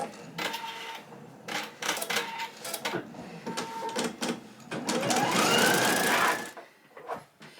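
Embroidery machine stitching fine flower detail in felt, rapid stuttering needle bursts broken by short pauses, then a longer sustained run with a rising whine, close and clear with no speech.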